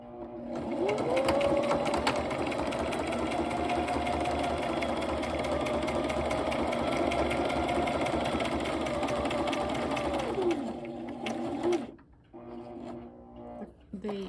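A sewing machine runs steadily for about ten seconds, stitching a paper shaker card with green thread. The close, continuous mechanical whir stops abruptly, and a few faint handling sounds follow.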